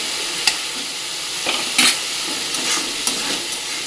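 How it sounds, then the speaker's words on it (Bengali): Potatoes sizzle steadily in hot oil spiced with cumin and coriander powder as a spoon stirs and scrapes the pan, with a few sharper clanks among the continuous frying hiss. "এর মধ্যে এবার আলুটাকে দিয়ে দেবো।"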